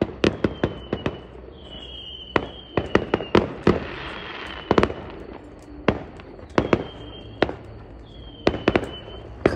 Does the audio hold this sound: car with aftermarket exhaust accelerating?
no